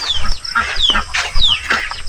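Nearby turkeys call out loudly in short rising and falling squawks and gobbling chatter, several birds overlapping in quick bursts.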